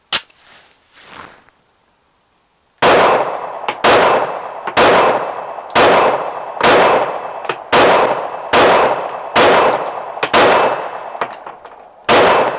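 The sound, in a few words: Glock 21 pistol shooting reloads made with Bullseye powder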